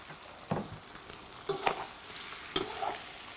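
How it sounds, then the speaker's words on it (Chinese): Garlic sprout stems and rice tofu with ginger, dried chilies and Sichuan peppercorns stir-fried in a wok: three distinct spatula scrapes and tosses over a soft, steady sizzle, close by. "先把蒜苗头放进来，先炒一下"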